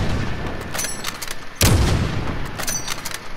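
Gunfire in a first-person shooter video game: a loud, sharp broadband shot bursts out mid-clip, with fainter shots and clatter scattered around it over a steady noisy game background.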